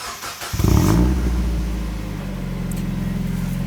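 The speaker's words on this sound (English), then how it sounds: "listen to the beautiful aftermarket exhaust" A 2002 Mazda Miata with an aftermarket exhaust cranks and fires up about half a second in, blips into a loud, throaty rev, then settles into a deep, rumbling idle.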